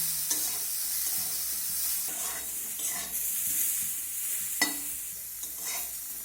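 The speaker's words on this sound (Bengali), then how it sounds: "এবার ফুলকপিগুলোকে একটু নাড়াচাড়া করে লাল করে ভেজে নেব।" Steamed cauliflower florets stirred and fried in a wok, soft sizzling under repeated scraping stirs of a spatula, close and fairly quiet.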